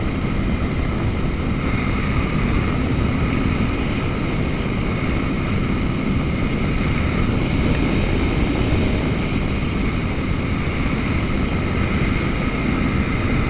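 Flexwing microlight's engine drones steadily and loudly throughout a circuit flight, a constant propeller roar with wind rush and no gaps.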